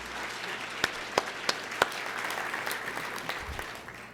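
Applause from a large crowd at an evening campaign event, a steady dense wash of clapping with a few sharp, close individual claps standing out, with no voices over it.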